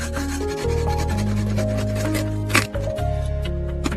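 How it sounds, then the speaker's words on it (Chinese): A hand saw cuts a log to length outdoors in a snow-covered old-growth forest, giving steady rhythmic rasping strokes that run the whole time over a soft, sustained tonal bed. "来到外面，把原木锯成需要的长度。"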